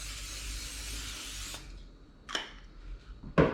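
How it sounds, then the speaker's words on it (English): Cooking oil sprayed onto a baking pan for pumpkin spice dog treats, a steady close hiss lasting about a second and a half, then a brief second puff and a small clunk. "Then you want to spray your pan"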